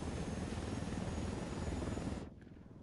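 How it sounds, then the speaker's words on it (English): A helicopter in Ghost Recon: Wildlands roars with a steady, dense rotor and engine drone, loud and close, then cuts off abruptly near the end into near silence. "Now back in the chopper."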